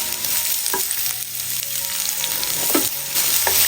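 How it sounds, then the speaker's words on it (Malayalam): Finely chopped onion sizzles in a pan with ginger and garlic, a steady close frying hiss broken by a few soft stirring scrapes, with no talking. "ഇനി ഇതിലേക്ക് ഒരു വലിയ സവാള ചെറുതായിട്ട് കട്ട് ചെയ്തും കൂടി ചേർക്കാം."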